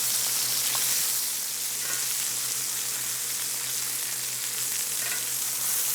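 Venison osso bucco pieces sear in a hot pan, a steady close sizzle and crackle running unbroken throughout with a few faint pops, no voices.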